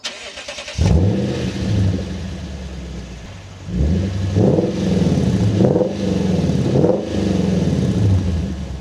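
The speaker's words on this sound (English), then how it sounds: "considering this is a V8, I think I'm legally obliged to show some revs and a start up" A V8 engine cranks and fires up into a rumbling idle, then is revved several times in deep, throaty surges.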